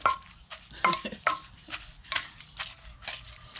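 Papaya salad pounded in a mortar at a village home in Isan, Thailand: a few sharp wooden knocks and clatters at an irregular rhythm, close by, with soft scraping between strikes.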